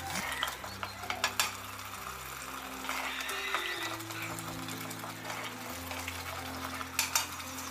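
A spoon stirs masala with chilli powder in a pan for a Rayalaseema stuffed brinjal curry, giving repeated scraping strokes over a soft sizzle throughout.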